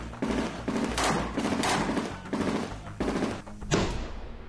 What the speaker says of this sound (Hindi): चारों तरफ ताबड़तोड़ गोलियों की आवाज गूंजने लगती है।